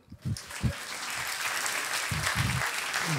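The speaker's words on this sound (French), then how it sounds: "On peut l'applaudir." Group applause for a young child who climbed up onto a log on his own, a steady wash of clapping that starts with a few separate claps and then holds at an even level through to the end.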